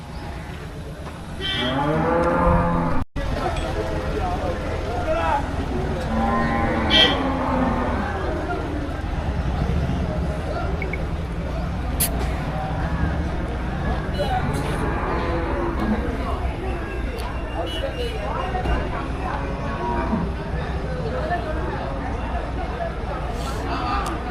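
Cattle moo at a busy cattle market in Melapalayam, with bulls, including racing bulls, being traded. Several deep moos rise over a steady crowd hubbub, with people talking throughout.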